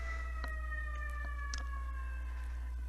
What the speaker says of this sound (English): 3rd ambulance going by